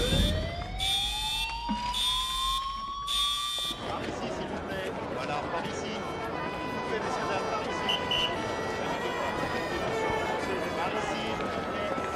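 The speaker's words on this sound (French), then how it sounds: "Quelqu'un ou quelque chose a dû déclencher une alarme." An alarm in a secured building sounds in repeated loud electronic tones for about four seconds, then gives way to a dense, steady roar of background noise with faint ringing tones carrying through.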